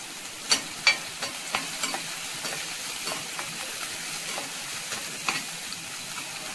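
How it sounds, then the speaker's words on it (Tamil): Onion and three cloves of cut garlic sautéing in a pan, soft continuous sizzling punctuated by sharp spatula scrapes and taps, several louder near the start, close by with no speech. "இதா ஆனியன் ஆட் பண்ணிரவும் கொஞ்சம் வதங்கட்டும் அது கூடவே நம்ம கட் பண்ணியிருக்க 3 பல்லு பூண்டு"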